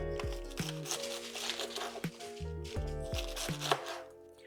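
A knife thinly slicing cabbage on a cutting board, with crisp chopping strokes in an uneven rhythm, each cut adding a short crunchy crackle, close and moderately loud.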